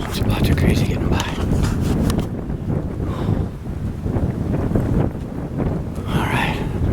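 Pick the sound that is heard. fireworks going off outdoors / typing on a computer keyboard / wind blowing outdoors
wind blowing outdoors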